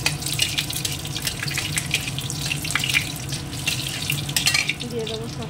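Dried red chillies and spices hit hot oil in a pan, giving a continuous bright sizzle with crackling spatters throughout.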